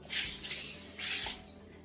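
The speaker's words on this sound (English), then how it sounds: "Spray this with a little oil" Oil sprayed from a can onto a cake pan while making a pineapple upside-down cake: a close, steady hiss lasting over a second, then a short faint burst.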